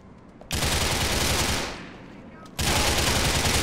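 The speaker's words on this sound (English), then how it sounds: "Keep shooting at me if you want to." Gunfire in GTA IV: dense, loud, continuous bursts of automatic shots that roll on, ease down for a moment, then kick back up to full force, with no talking.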